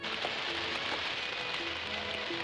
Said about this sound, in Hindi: ये माँ की बरसात है, कोई नहीं भीगेगा